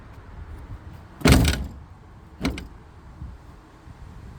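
A Jeep TJ full door with a tweaked frame swung shut with a heavy close-up thunk, followed a second later by a lighter second knock, over a low ambient rumble.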